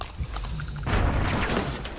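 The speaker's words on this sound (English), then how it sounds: "Oh, the grenade went off right under my feet." A grenade goes off right under the player's feet in Starfield, a heavy, close boom that turns into a loud, rumbling burst and then lingers as noisy debris and ringing.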